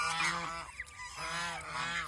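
Ducks honking loudly and close by, with a male duck among them, in two harsh nasal calls broken by a short gap.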